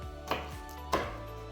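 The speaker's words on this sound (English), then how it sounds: "Now we peel and cut the other ingredients and add it to the blender." A knife chopping apple, onion, garlic and ginger on a cutting board: two sharp, close strikes about half a second apart with softer taps between, alone without talk.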